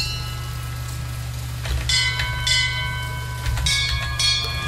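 In the video game Bioshock Infinite, bells rung for a puzzle give several clear, ringing strikes with sustained tones over a steady low hum, spaced a second or so apart.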